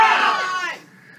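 A crowd of people screaming together in a loud, brief burst that quickly fades out into quiet.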